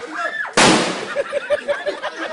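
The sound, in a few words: explosion sound effect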